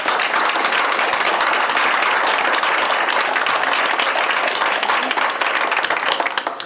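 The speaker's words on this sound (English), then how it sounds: "Please give them a round of applause" Loud, sustained audience applause for competition winners at a city commission meeting, dense clapping that continues throughout and thins slightly at the end.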